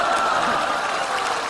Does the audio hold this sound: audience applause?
yes